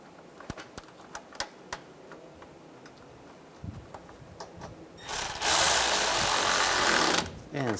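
Bolts for the radiator fan on a 2004-2009 Toyota Prius being tightened: a few scattered sharp clicks, then a loud, steady mechanical whirring burst lasting about two seconds, close by and with no talking.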